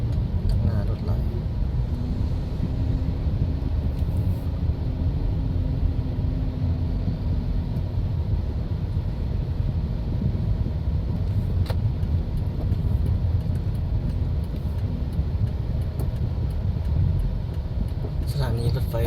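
Steady road traffic rumbles along a city street as many vehicles pass, making a continuous low drone with no distinct gaps. Someone talks over the noise throughout.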